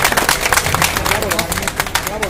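A crowd at an FM radio station event bursts into loud, dense applause to welcome the officials present. The clapping is steady and close throughout, mixed with scattered voices and murmur.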